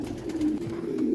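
Pure-bred French meat pigeons coo in a loft in Rawda, Damietta: a low, soft, continuous cooing murmur close by, with no talking.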